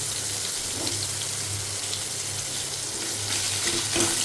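A small chopped onion frying in leftover oil with black cumin seeds, a steady dense hiss of sizzling oil with a couple of faint stirring knocks, close and continuous.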